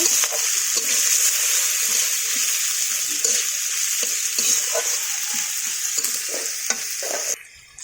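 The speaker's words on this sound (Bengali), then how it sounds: "এবারে পেঁয়াজটা আমি ভালো করে ভেজে নেব।" Chopped onion frying in oil in a wok, a steady close sizzle broken by repeated scraping stirs of a spatula, then cut off abruptly near the end.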